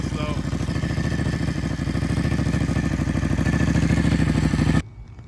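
A Honda Grom motorcycle fitted with an Arrow exhaust and a swapped Ducati 1199 Panigale engine runs close by with a rapid, loud, lumpy idle pulse that cuts off abruptly near the end.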